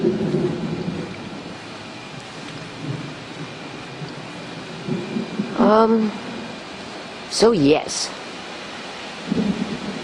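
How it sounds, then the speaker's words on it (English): Rumbling thunderstorm with steady rain on the surface, low thunder rolls swelling now and then, while a few voices talk intermittently over the storm. "Hopefully this thing's capturing the thunder."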